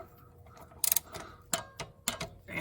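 Small wrench ratcheting and clicking while torquing a spark plug on a 2013 Honda Fit 1.5L engine: a few short, close, sharp bursts of clicks, with brief pauses between them.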